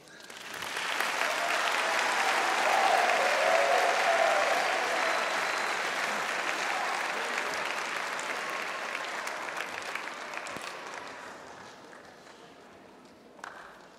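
A graduation crowd applauds the speaker, the clapping swelling in over the first second, holding a dense, sustained roar, then thinning and fading out toward the end, with one sharp clap standing out near the close.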